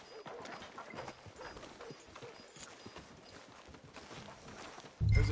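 Horse hooves clip-clop at a steady walking pace in the video game Red Dead Redemption 2, faint under a quiet game ambience, before a louder low thump at the end.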